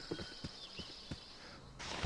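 Horse hooves clip-clop in a video game set among wyverns and a mine, a few spaced, fairly soft hoofbeats over a quiet background hiss, followed by a rising rush of noise at the end.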